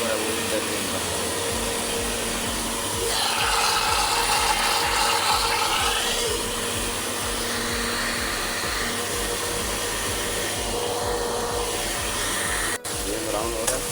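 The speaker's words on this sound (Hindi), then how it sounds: "इसको हम ग्राइंड करेंगे। थोड़ा सा पानी ऐड किएगा ताकि मिक्स हो प्याज और टमाटर को अच्छी तरह ग्राइंड कर लेना।" An electric grinder whirs steadily as it blends onions and tomatoes with a little water, a loud constant motor drone that shifts slightly in pitch and cuts off with a click near the end.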